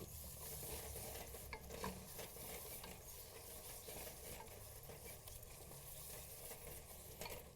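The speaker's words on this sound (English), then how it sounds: "Give that a quick saute." Stew base sautéing in a pan, a steady broadband sizzle with occasional stirring scrapes running throughout, fairly faint and with no voices.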